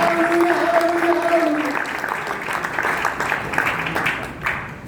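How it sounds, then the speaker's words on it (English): Congregation clapping hands together in a church worship service, a dense steady wash of applause under a sustained sung or spoken voice near the start. "let us worship and clap our hands unto the Lord"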